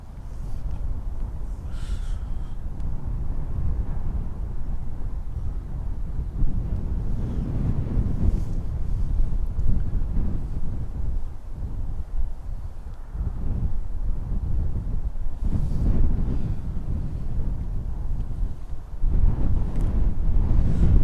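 Strong, gusty wind at Dublin Airport rumbles and buffets the microphone, rising and falling in waves of low roar over about twenty seconds.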